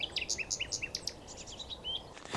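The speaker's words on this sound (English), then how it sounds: "Now, obviously, it's really exciting to hear a nightingale." A nightingale sings from inside a bush, pouring out a rapid run of bright whistles, trills and chirps that carry clearly over faint outdoor background noise. No one speaks.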